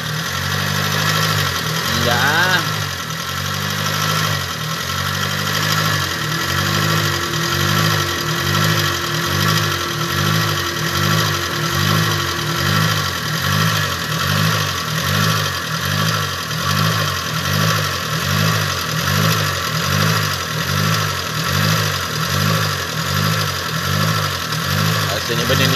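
A Proton Wira MMC engine with an idling fault runs close and loud in a steady, lumpy, pulsing rhythm that resembles a high-cam idle, holding throughout with a brief word spoken over it.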